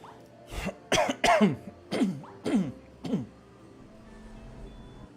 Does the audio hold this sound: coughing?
yes